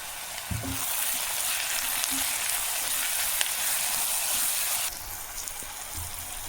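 Chopped vegetables frying with salt in a pan for foxtail millet upma, a steady close crackling sizzle throughout with a couple of soft knocks, dropping slightly in level near the end.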